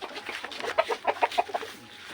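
A hen clucks after laying an egg, giving a close run of short, sharp clucks that quickens in the middle, with no one speaking.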